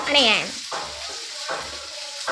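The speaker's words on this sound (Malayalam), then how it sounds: "ഇഞ്ചിയും വെളുത്തുള്ളിയും കൂടി നമ്മൾ ജസ്റ്റ് വഴറ്റിക്കൊണ്ടിരിക്കുകയാണ് കേട്ടോ" Ginger, garlic and onion sauté in a hot pan, a soft sizzle running throughout while a spoon scrapes and stirs in repeated strokes; a voice is briefly heard at the start.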